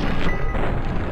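A loud, dense gunshot in the video game Fallout 3 fills the whole moment, its echo trailing off, no voices present.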